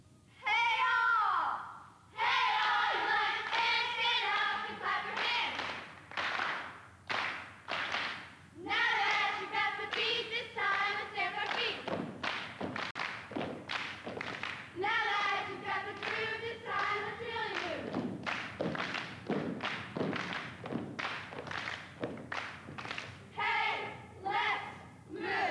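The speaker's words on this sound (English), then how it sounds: "the girls start doing their little cheering" Cheerleaders at a basketball event chant and cheer in unison with sharp rhythmic clapping, loud and close, their shouted voices dominating throughout.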